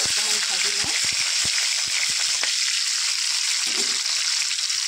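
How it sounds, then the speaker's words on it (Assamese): Fish fries in hot oil in a pan, giving a loud, steady sizzle and crackle throughout, punctuated by occasional low clicks and knocks. "মাছটো অকণমান ভাজি লওঁ"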